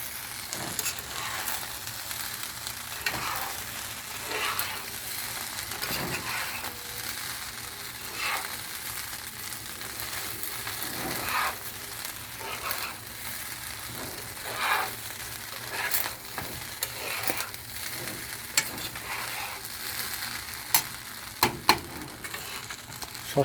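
Fried rice sizzles in a pan after sauce goes in. A steady hiss runs throughout, with irregular scraping and stirring clatters from a spatula.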